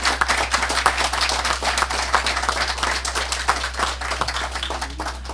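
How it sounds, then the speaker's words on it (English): Audience clapping at a soil-turning ceremony for a farm project in Wallerfield, Trinidad, a dense outdoor patter of many hands over a steady low hum, lasting throughout at moderate loudness. "give the Ministry of Food and Production, Devon Marge, a round of applause."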